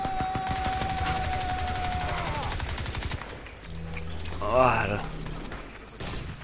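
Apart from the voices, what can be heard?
grenade explosion and gunfire in video game Crysis 2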